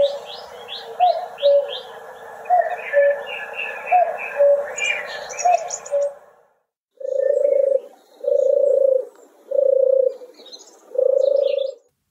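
Bright bird chirps and trills give way to four low, purring turtle dove coos repeated at an even pace, close and clear.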